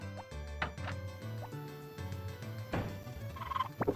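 Chickens in a coop in Harvest Moon: Back to Nature, with a few short clucking and gobbling squawks in a quiet room, broken by soft thuds and a brief rattle near the end.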